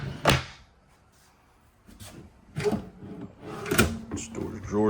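Wooden storage drawers in a 2021 Forest River Sandpiper 379FLOK fifth-wheel RV kitchen are pulled open and pushed shut, giving several short thuds and slides spaced across a few seconds while someone talks.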